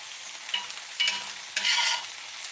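Onions caramelize in a cast iron skillet, a soft steady sizzle that swells in two louder bursts as they are stirred, with a faint low hum underneath.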